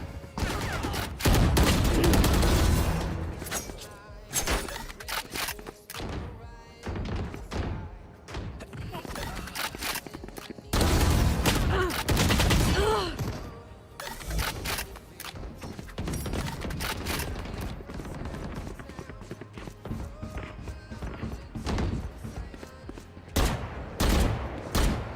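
Gunfire in Valorant during a competitive match, dense bursts of rapid shots and single cracks recurring across the stretch, loud and close, with commentators' voices underneath.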